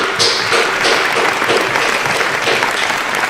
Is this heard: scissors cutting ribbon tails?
no